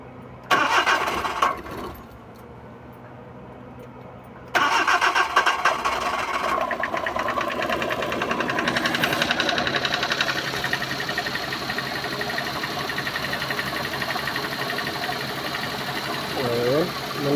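A car engine cranks, catches on the second try and settles into a steady idle close by, with voices talking over it.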